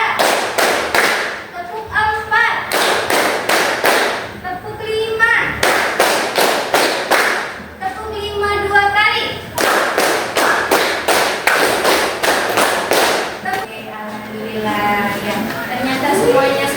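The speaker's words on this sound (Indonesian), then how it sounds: "Tepuk 1, tepuk 2, tepuk 3." A classroom of children does a rhythmic clapping ice breaker, sharp claps in counted bursts of one, two and three, alternating with a teacher's voice and children's group responses between rounds.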